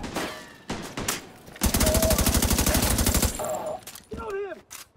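Rapid automatic gunfire bursts in The Division 2, a dense rattling volley dominating the middle stretch, with game voices calling out around it and electronic cues at the end.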